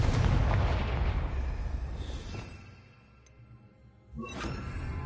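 A Confringo fire spell explodes in Hogwarts Legacy. A loud blast with a rushing, crackling roar fades over a few seconds, then a second burst flares up near the end.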